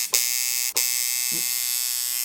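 A tattoo machine buzzes steadily and loudly with a sustained electric whine after the foot pedal is pressed, broken by two brief dips near the start and running on without pause.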